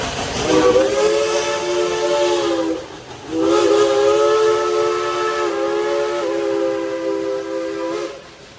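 A loud steam train whistle at Dollywood blows in two long, sustained blasts with a brief break between them, rich in harmonic tones.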